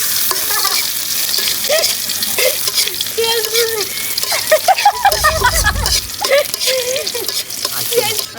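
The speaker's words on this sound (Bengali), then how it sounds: "আমাদের পেঁয়াজগুলো তো ভাজা হয়ে গেছে।" Onions frying in a pan at a night-time picnic, a close hissing sizzle with scraping stirs and a brief heavy stir midway, while people talk over it.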